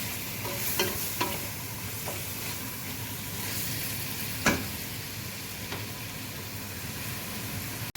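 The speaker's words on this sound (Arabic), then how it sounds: "غنخليه يتقلى شويه، وغادي نضيف عليهم الملحه وشويه تاع البزار حسب الذوق" Chicken pieces fry in a pan with onion, salt and spices, a loud steady sizzle broken by a few sharp clinks and scrapes of a stirring utensil against the pan, no speech.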